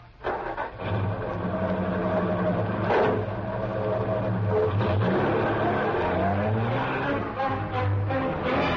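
A sedan's engine runs and pulls away, a steady mid-pitched rumble rising slightly in pitch as it accelerates, close and continuous for the whole stretch.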